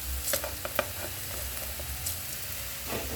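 Sweet and spicy chicken feet adobo sizzles in a pan with black pepper as it is stirred, a soft steady hiss with a few light clinks and scrapes close by.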